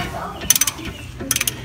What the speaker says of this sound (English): you take off the bottom caliper bolt, 14 millimeter ratchet, and this one will come off.